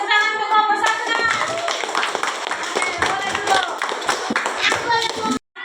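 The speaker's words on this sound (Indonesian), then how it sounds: "tepuk tangan untuk kelompok satu" A classroom group of students claps their hands together in a lively, uneven burst lasting several seconds, with some scattered voices and shuffling mixed in, ending abruptly.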